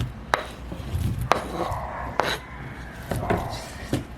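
A knife chops through a block of Spam on a cutting board, cut into pieces for pulutan-style Spam musubi, with about five sharp, close knife strikes spaced unevenly through the clip and soft handling noise between them.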